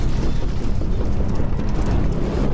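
A head exploding in a Skibidi Toilet animation gives a sustained loud rumbling blast, dense and noisy with crackling texture, steady for a couple of seconds with no speech.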